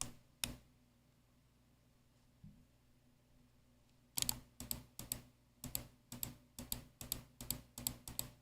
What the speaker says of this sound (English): You guys can hear the mouse click